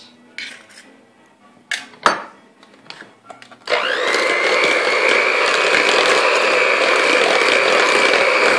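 Electric hand mixer blending eggs into biscotti dough in a bowl: a few clinks and taps of utensils first, then the mixer switches on with a loud, steady whirring hum that runs on without talk.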